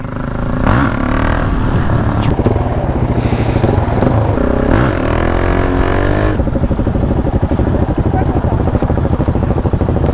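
A motorcycle engine runs steadily and loudly throughout, revving at times, with people talking over the rumble.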